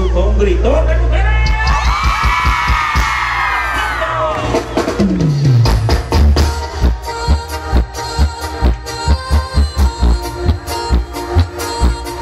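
Women in a live concert audience shout and whoop loudly for several seconds during a show. The cheering then gives way to the band's music, with drums and brass pulsing steadily.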